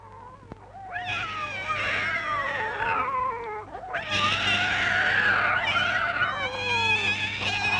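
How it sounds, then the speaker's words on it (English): Two cats caterwaul loudly in a 1937 film, long overlapping wailing yowls that sweep up and down, breaking briefly before a second, louder burst of screeching. "Darn those cats."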